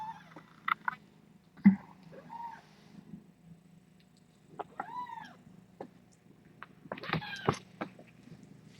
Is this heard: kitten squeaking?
yes